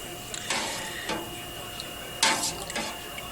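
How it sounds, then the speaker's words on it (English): A spoon stirs milk in a pot for homemade cheddar cheese, scraping the metal in a few separate strokes with soft liquid swishing against a steady background hum. "the directions say to stir it from the top down, like this"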